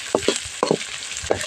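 Capsicum chitranna being stir-fried in a pan gives a soft sizzle, broken by several short scraping and stirring strokes at an uneven rhythm, close and fairly quiet, with no talking.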